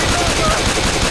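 Rapid automatic gunfire from Left 4 Dead 2 during the Dark Carnival campaign, a dense continuous burst of shots filling the short moment, loud and close with faint talk mixed in.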